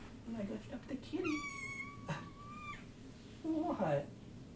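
A pet cat meowing indoors, several drawn-out, close mews in a row, with a person talking and cooing to it before and after.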